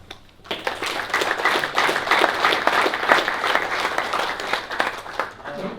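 An audience applauding as England rugby captain Maro Itoje is introduced on stage, a sustained burst of clapping from a sizeable crowd that swells and then tapers off at the end.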